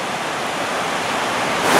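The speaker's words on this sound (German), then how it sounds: "zu dem Fellfors Wasserfall, den man im Hintergrund bestimmt schon gut hört" Fällfors waterfall in Sweden rushing as a loud, steady broadband roar with no break, swelling slightly at the end.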